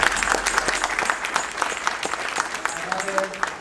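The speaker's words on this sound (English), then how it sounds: "please give him a round of applause." Audience applause at a city council oath of office ceremony in Westminster, steady clapping from a crowded room with talking over and around it, fairly close and moderately loud.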